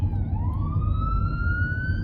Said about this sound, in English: It's like this siren, this emergency thing